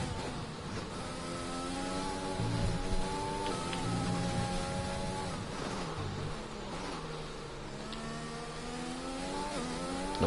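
Race cars from an F1 racing video game on the Bahrain track, with several engine notes whining and rising and falling through gear changes, loud and continuous throughout.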